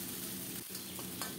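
Cumin paste frying and being stirred in mustard oil with bay leaf tempering for a bottle gourd and coral fish curry, a steady close sizzle with soft scraping stirs throughout.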